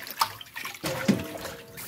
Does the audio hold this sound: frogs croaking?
no